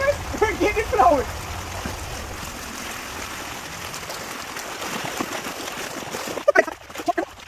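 Water flows and gurgles steadily through a creek where a beaver dam has just been removed, a continuous moderate rush with a few louder splashes near the start and end, and voices talking briefly over it.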